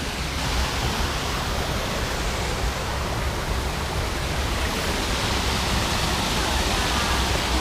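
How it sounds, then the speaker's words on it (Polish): Small stream flowing in a Japanese garden in Wrocław, a steady, even rush of water filling the whole stretch without pause. "tutaj wpływa ten strumyczek i tam o, tam gdzie wam pokazywałam. O, i tam jeszcze płynie."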